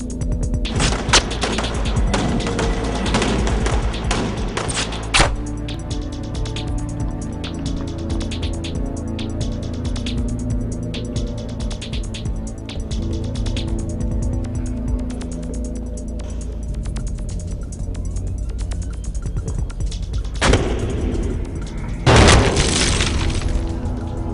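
Gunfire from a Hollywood action movie, Warlock, dubbed in Hindi, with several guns firing at once: loud, scattered sharp bursts with crashing, shattering debris over a dense, rumbling soundtrack, the heaviest volleys coming near the end.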